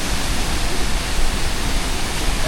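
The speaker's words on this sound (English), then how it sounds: "Cascada." Steady, loud rushing roar of a waterfall in Baños, Ecuador, a dense broadband wash of falling water close by, with no distinct talking.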